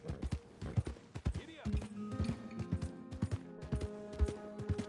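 Horse hooves clop in an irregular rhythm close by in a video game, with voices talking over them and a low tonal hum in the background.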